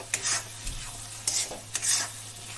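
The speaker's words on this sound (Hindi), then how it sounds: "अब इसको भी लगातार चलाएंगे।" Moong dal halwa stirred continuously in a pan with crushed cardamom, a spoon scraping in three or four distinct sweeps over a soft steady sizzle, close and alone without talk.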